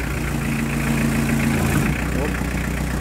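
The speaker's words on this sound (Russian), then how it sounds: "Посмотрим, как мотор там, сильно ему тяжело." An electric motor turning a belt-driven R80 hydraulic distributor runs steadily under load with a low, constant hum and vibration, close and continuous, with a slight change in pitch partway through.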